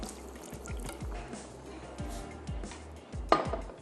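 Water splashes into a pan of simmering sauce for a sweet chili fish dish, with a few dull knocks of cookware and a brief louder clatter near the end; nobody speaks.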